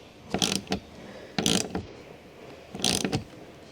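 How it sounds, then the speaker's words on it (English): A ratchet wrench with a 13mm deep socket tightens the wiper arm retaining nut on a 2007-2017 Jeep Wrangler: three short bursts of rapid clicking, close and clear, with brief pauses between them. "Use a 13mm deep socket with a ratchet wrench. Tighten the wiper arm retaining nut."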